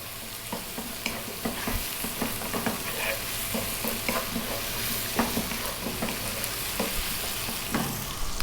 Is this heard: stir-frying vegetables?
yes